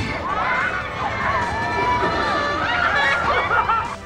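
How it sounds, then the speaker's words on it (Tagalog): Visitors scream and shout on extreme rides at a theme park in Santa Rosa, Laguna, their excited cries rising and falling over a dense crowd babble at moderate distance. "Sa malalakas na sigaw sa extreme rides, tila hindi ramdam ang puyat ng mga bisita ng theme park na ito sa Santa Rosa, Laguna."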